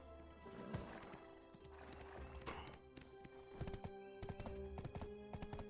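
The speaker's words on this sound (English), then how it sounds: "I'm over here just galloping for no damn reason" A horse gallops in the online video game Black Desert Online, its clip-clop hoofbeats running steadily with a brief whinny, quiet and alone.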